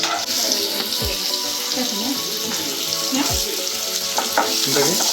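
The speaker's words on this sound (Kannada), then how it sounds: "ಸೊ ಈರುಳ್ಳಿ ಆಲ್ಮೋಸ್ಟ್ ಬೆಂದಿದೆ, ಗೋಲ್ಡನ್ ಬ್ರೌನ್ ಆಗ್ಬೇಕು." Onions frying until golden brown in a pan, heard as a loud, even sizzle with occasional stirring scrapes and clinks close by.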